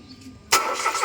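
A Mitsubishi Mirage with a starting problem cranks after a quiet half second, the starter and engine churning loudly and steadily right up close until the end, with no voices.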